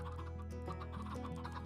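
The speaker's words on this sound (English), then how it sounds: "I've been working on the interior and I hear a lot of clucking." Chickens cluck repeatedly in Minecraft while building a western mesa base in survival mode, a steady run of short calls layered over sustained tonal background music.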